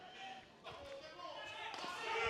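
Low roundhouse kick slapping against an opponent's leg during a kickboxing tournament final bout, a few sharp impacts echoing in a hall over crowd and commentary noise.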